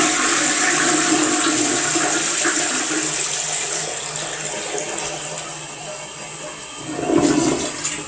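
A bathroom toilet flushes with a steady rushing, gurgling stream of water that fades slightly before a final swirl near the end, with no other sounds over it.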